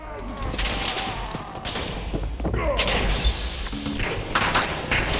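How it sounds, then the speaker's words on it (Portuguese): A Fallout 4 gunfight rattles on with overlapping distant shots and thuds over a steady rumble, while a voice talks throughout. "os caras estão no maior tiroteio"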